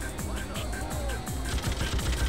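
Machine gun fire in Freedom Fighters, a steady stream of rapid shots rattling under game music and battle noise, mid-distance and fairly faint.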